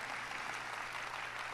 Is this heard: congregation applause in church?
yes